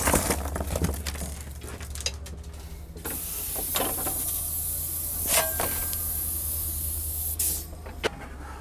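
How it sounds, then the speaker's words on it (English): A steam locomotive's blower hisses steadily and broadly, with a low rumble underneath and a few brief clanks and bumps scattered through it. "We open up the blower a little bit, create a little more draft to begin burning the coal we just threw in"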